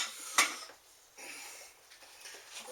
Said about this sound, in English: Okay, we're going to take the lid off